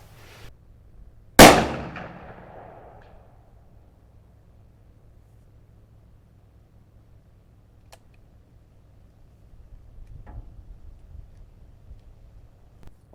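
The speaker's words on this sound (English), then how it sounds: "I gotta sight in the rifles, so I'm gonna just sight in the rifles now" A single sharp rifle shot while sighting in a rifle at a 50-yard target outdoors, loud and near with a ringing decay, followed by quiet ambient noise and faint handling.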